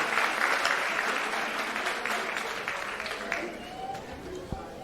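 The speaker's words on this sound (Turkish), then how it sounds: "Cemre'ye bir alkış." An audience at a 2025 İBHOT greeting event applauds Cemre with a brisk, dense burst of clapping that tapers slightly over a few seconds.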